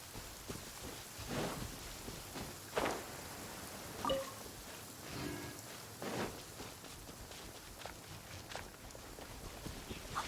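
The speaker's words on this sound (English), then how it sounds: "And it's frickin' raining." Rain falls in the video game Genshin Impact as a soft, steady patter, with faint footstep-like taps and small splashes scattered over about ten seconds.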